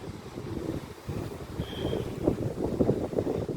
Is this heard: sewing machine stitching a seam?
no